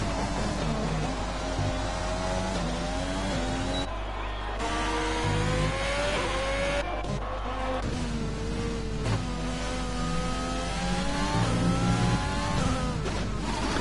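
McLaren race car heard on board in a sim racing game at Austria, its engine rising through gears in repeated revving sweeps with brief lifts and downshifts, loud and constant.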